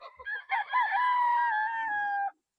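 A DL Gray gamefowl rooster crows once, a clear, close, drawn-out cock-a-doodle-doo lasting about two seconds, preceded by brief clucking.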